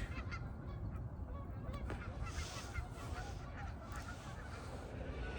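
Several geese honk repeatedly and fairly loudly outdoors, their calls overlapping in a constant noisy chorus with no pauses throughout.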